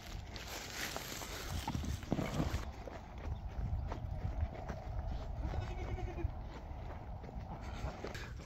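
Goats on a small farm bleat over scuffling hooves and shuffling movement nearby, a fairly quiet outdoor scene with faint talk in the background.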